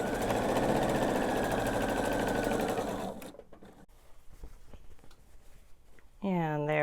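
A sewing machine stitches the seam of a quilt block, a loud steady whir for about three seconds that then stops, leaving faint handling noises before a voice begins at the end.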